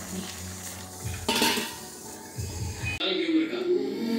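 Dishes and plates clatter and scrape in a few quick bursts of metallic clinks while rice is served, close by and lively.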